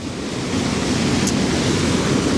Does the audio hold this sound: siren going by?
no